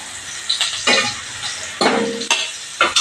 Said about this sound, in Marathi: आता ही परत फोडणी आपण परतून घेणार आहोत